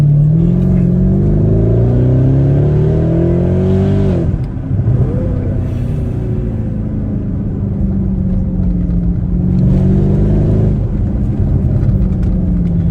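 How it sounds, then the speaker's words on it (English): A powerful Mercedes-Benz ML63 AMG SUV engine revs loudly and repeatedly, its deep roar climbing and falling in pitch, with no talking. "I just can't get over how this car sounds."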